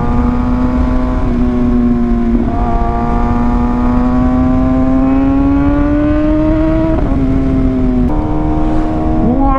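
A motorcycle engine hums steadily while riding, its pitch climbing slowly between shifts, with brief gear changes around the second, third and eighth seconds. The sound is close and continuous, with no talk.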